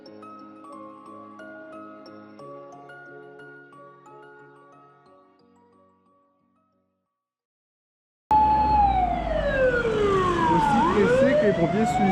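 A fire engine siren wails past on a Tokyo street, loud and close, its pitch sweeping up and down and dropping as it goes by, after several seconds of quiet music that fades to silence.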